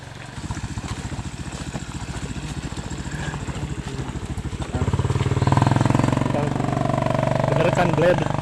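A Blade motorcycle engine runs on a forest hiking trail with a steady, close, throbbing putter that grows louder as it revs up midway, with some talk underneath.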